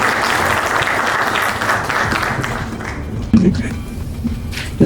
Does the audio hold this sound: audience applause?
yes